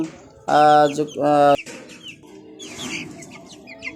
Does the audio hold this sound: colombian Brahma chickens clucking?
yes